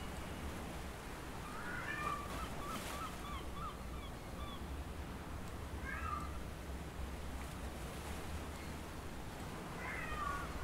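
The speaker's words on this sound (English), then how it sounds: "You hear my cat in the background." A house cat meows several times in the background, short rising calls repeated at intervals over a steady broadband hiss, moderately distant and fairly faint.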